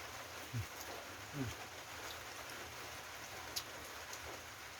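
Steady rain patters continuously on a rice-field hut in rural Thailand, with a few faint thumps and a brief high chirp over the wash of falling drops.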